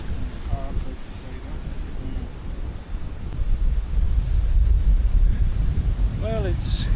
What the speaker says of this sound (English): This wind is unbelievable.